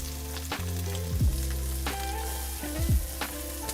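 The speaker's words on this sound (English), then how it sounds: "Oil's nice and hot. We're going to throw in our onions." Onions land in hot oil and set off a steady frying sizzle. A low rumbling hum runs underneath, and several sharp clacks punctuate it.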